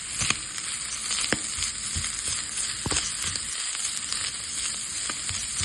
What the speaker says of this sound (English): a little bit of fresh woodier mushroom is going in with the tuna, just to saute it up a little bit